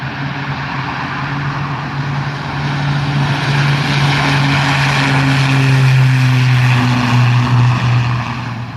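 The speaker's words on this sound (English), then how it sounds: "now we got the Marsh S2T, or turboprop conversion." Marsh S2T turboprop air tanker engine at a Cal Fire base, Nevada County Airport, Grass Valley, during a wildfire: a loud, steady turboprop drone with a sustained whine that swells slightly louder midway and holds, with no speech.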